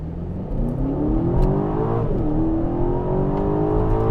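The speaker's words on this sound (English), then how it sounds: "We're going to go into Sport Plus, do our 0 to 60 launch." A 2022 Aston Martin DBX SUV in Sport Plus mode launches hard from a standstill, its engine revving and pulling up through the gears with a rising, loud, continuous roar heard from inside the cabin.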